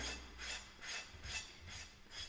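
Rhythmic light rasping strokes of sandpaper on painted wood between paint coats, about five even back-and-forth passes, close and soft.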